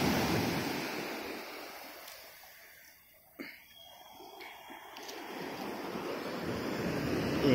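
Ocean waves at Kollam Beach in Kerala, a loud rolling surf that swells, fades into a brief lull, then builds again, with heavy wind buffeting the microphone.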